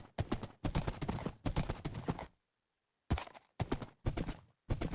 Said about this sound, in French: J'ai même trouvé un cheval.